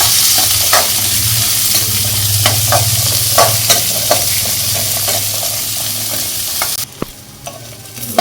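Dried red chillies and small shallots sautéing in hot oil for a South Indian fish curry, a steady close sizzle with occasional stirring scrapes of a spoon against the pan, no talking.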